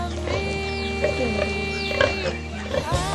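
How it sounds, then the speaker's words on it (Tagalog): A boar grunts and oinks repeatedly up close, with a droning hum beneath and a person speaking over the animal. "Ito po ay barakong baboy."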